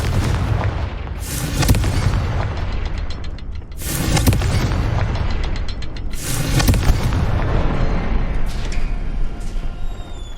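Confringo blasting spell explosions in Hogwarts Legacy, three loud bursts cast in quick succession, each a sharp crackling blast with a rumbling tail, and a clicking mechanism sound toward the end.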